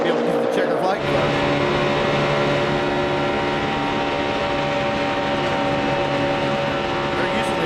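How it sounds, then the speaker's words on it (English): NASCAR race cars roaring past at the 2011 Good Sam Club 500, a loud continuous engine drone filling the track, with one driver backing off the throttle; a commentator talks over it. "you could hear how Jimmy had to back out right there"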